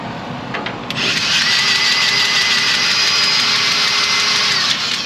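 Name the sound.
grease gun running out, RPMs rising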